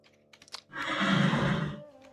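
Horse in Second Life gives a loud, drawn-out whinny lasting about a second, with a few brief clicks just before it.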